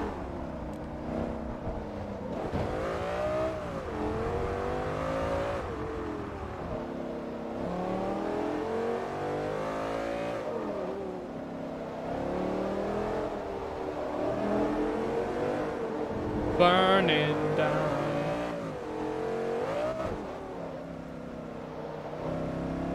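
Race car engine in Forza Motorsport 3, an A-class car driven fast, revving and shifting continuously with rising and falling pitch, loud and close throughout, no talk over it.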